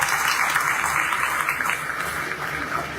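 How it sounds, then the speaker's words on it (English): Audience applause following a cultural performance at a government printing department relaunch event, a steady dense wash of clapping sustained throughout at moderate loudness. "If you enjoy that rendition, please let's clap again."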